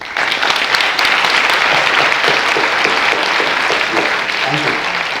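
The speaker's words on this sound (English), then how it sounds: "So let's have a big round of applause." A panel discussion audience breaks into sustained, dense applause, steady clapping from many hands filling the room throughout.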